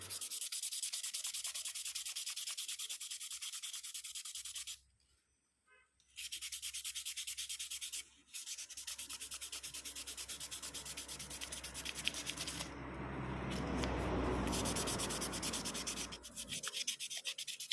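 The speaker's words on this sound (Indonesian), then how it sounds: "kita coba amplas sedikit juga di bagian skep, sisi samping kanan kiri ya" Sandpaper sands a motorcycle carburetor slide from a Yamaha Vega ZR in steady rapid back-and-forth strokes, close and continuous, with a couple of brief pauses.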